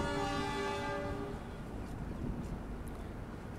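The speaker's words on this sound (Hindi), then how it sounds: "और ट्रेन यहाँ ऑलमोस्ट अट्ठारह मिनट की देरी से पहुँची है" The Indore Howrah Shipra Express pulls into Manikpur station, its horn sounding a long steady blast over the loud rumble of the train, which fades into rolling wheel noise.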